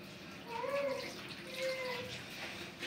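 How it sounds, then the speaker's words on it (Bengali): Water is poured into a cooking pot of vegetables being prepared for a breakfast dish, making a faint, soft splashing that comes in two short pours with quiet room noise in between. "এখন পরিমাণ মতো পানি দিয়ে নেড়ে বসাই দিব"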